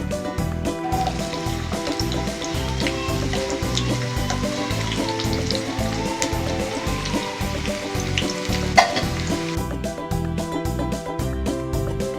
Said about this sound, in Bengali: দিচ্ছি তেল, পেঁয়াজ কুচি